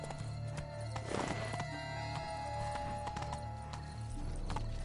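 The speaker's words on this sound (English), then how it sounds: "Be better off on horseback." In The Witcher 3, a horse's hooves clip-clop in a steady, rapid gait, close and continuous, with an occasional whinny over game ambience.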